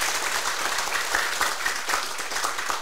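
Steady applause from an audience at a political lecture and training session, sustained and fairly even for a few seconds with no talk over it.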